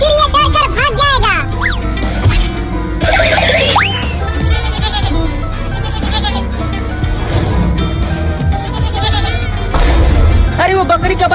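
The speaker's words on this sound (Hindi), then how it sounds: "अरे वो बकरी का बच्चा मेरे खेत में आ रहा है मेरा लालमी खाने" A young goat kid bleats repeatedly in a cartoon farm scene, with high wavering cries coming again and again over a busy background of music and effects; talking runs underneath.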